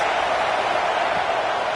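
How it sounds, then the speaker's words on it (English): Steady roar of a college football stadium crowd at an LSU home game against Florida, a dense continuous wash of noise filling the short stretch without a break, loud and unbroken. "This crowd trying to make life miserable for this offense."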